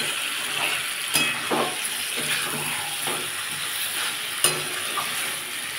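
Jackfruit is stirred and fried in oil in a pan, giving a continuous sizzle broken by a few sharp scrapes of the spoon against the pan, close and fairly quiet.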